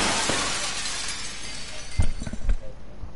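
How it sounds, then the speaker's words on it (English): Glass shatters in a video game during a stream, with a few sharp crashing bursts and clinks near the end following a noisy, steady background. "You can break the glass."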